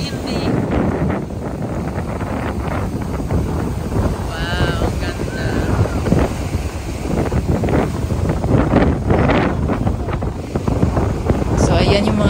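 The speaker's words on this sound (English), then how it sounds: "Lakas ng alon guys, tapos windy" Loud, blustery wind buffeting the microphone over crashing ocean waves at Pensacola, Florida, a constant roaring rush, with some talking and a brief whistle-like tone partway through.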